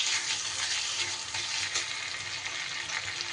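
Onions frying in a pan as crushed ginger goes in, a steady close hiss and crackle of sizzling oil with faint stirring scrapes, continuous and fairly quiet with no talk.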